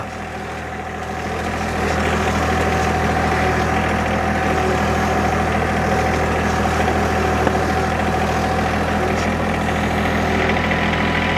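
A John Deere 1025R compact tractor engine running steadily with a low, even drone and vibration, rising slightly in the first two seconds and then holding constant, close by with no talking.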